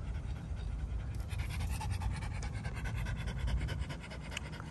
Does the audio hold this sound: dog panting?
yes